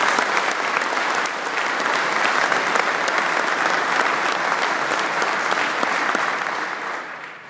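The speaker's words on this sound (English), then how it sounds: "Everybody, please give them a round of applause." Conference audience at the 2012 PeopleNet Users Conference breaks into a sustained, dense round of applause that holds steady and slowly fades near the end.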